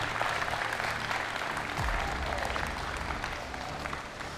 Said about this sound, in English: So a little bit of a round of applause, please, for the volunteers and also for yourselves.